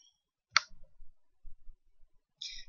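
Two crisp computer mouse clicks while saving a Microsoft Word file, one sharp near click followed by another a couple of seconds later, with faint soft handling noises between and no voices.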